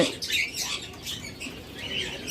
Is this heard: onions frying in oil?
no